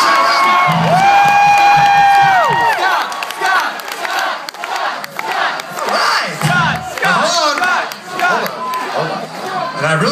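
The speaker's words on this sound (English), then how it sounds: "Make some noise for Scott!" A concert crowd at a celebration-of-life show cheers, whoops and shouts loudly in sustained waves, with scattered screams rising above the roar.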